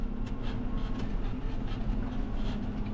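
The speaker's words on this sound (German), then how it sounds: "Hänge ich gleich nochmal eben den anderen Zug an." A train in a farming video game rolls along steadily, a continuous low rumble with faint rhythmic clacks, heard alone without talk.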